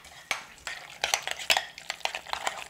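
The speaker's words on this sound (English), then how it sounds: "Mix that up one more time" Guacamole gets stirred with pepper and rock salt, with a string of distinct clinks and scrapes of a utensil against a bowl in an uneven rhythm, close and fairly quiet.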